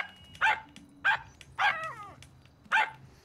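Dog barking in the video game GTA Online, four separate sharp barks spaced about a second apart, one trailing into a short whine, fairly quiet over faint background noise.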